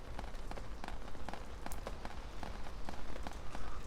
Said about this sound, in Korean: 빗소리 좋다.